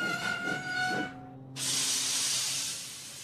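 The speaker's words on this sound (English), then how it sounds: "Thomas's brakes sound like this." Brakes of a cartoon steam locomotive arriving at a dockside: a few whistle-like tones give way to a sudden loud, sustained steam hiss that slowly fades.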